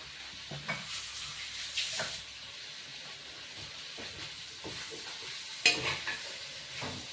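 A spoon scrapes and stirs through thick raw-plantain curry in a hot pan on low heat, with a steady low sizzle and occasional louder clanks against the metal.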